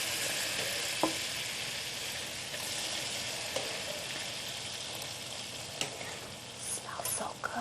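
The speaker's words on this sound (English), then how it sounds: "I'm gonna put them right into the pan" Food sears in butter in a pan, giving a steady, fairly quiet sizzle with a few faint clicks and utensil taps near the end, and no clear talking over it.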